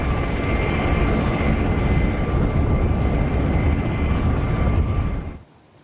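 An HH-60 Pave Hawk helicopter flies low over Iran, its loud, steady rotor-and-engine roar filling the air before dropping away abruptly near the end.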